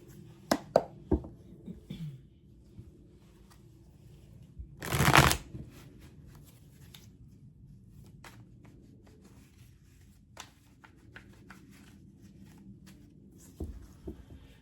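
Tarot cards are shuffled quietly, with a few soft taps, then one brief loud riffle, followed by scattered faint card handling in a quiet room.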